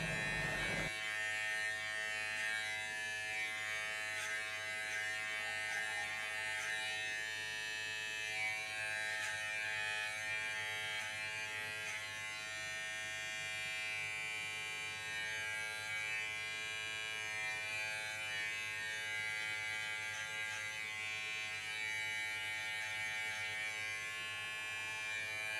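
Electric hair clippers buzz steadily and close-up through a home haircut, cutting hair in light controlled passes to build a fade, one continuous motor hum from start to finish with no talking.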